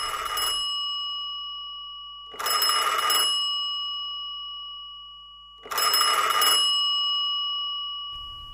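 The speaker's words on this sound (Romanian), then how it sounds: "m-am trezit că sună telefonul." A telephone rings in a Romanian radio play, two and a half clear bursts of a classic bell ring separated by pauses, loud and near with no talk.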